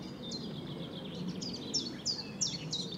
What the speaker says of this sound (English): as you can hear, plenty of bird song, chiff chaff omnipresent